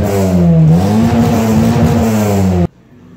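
An old German car's engine revs loudly inside a garage, a strong harmonic drone that rises and holds, then cuts off abruptly into near silence.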